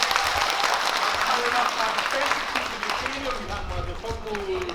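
Audience applause at a school reading festival and award ceremony, a steady dense wash of clapping from a large crowd that holds for several seconds, with faint voices underneath.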